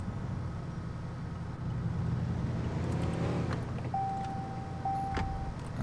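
A car idling in GTA IV, its engine a steady low rumble that stays close and constant, with a short tonal beep and a brief thump near the end.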